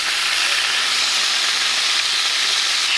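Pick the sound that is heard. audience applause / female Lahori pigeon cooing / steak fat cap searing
steak fat cap searing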